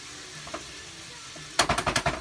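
Chicken fajitas in a pan, sizzling faintly before a burst of rapid stirring scrapes and clatters near the end, several quick strokes in a row.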